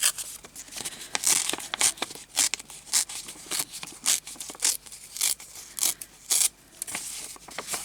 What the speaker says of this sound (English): tear it down this side